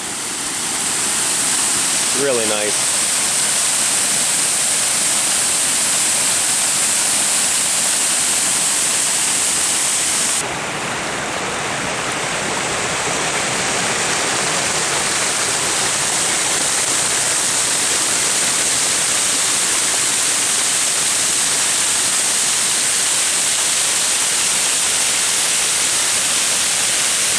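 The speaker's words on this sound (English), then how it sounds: "We made it down to the waterfall" A waterfall along the Old Loggers Path trail roars as a loud, dense, continuous rush close by, with a brief spoken remark over it early on.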